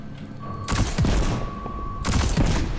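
Gunfire from shooting enemies in the video game Destiny 2, two dense bursts of rapid shots with thumping impacts, loud and close, separated by a short lull.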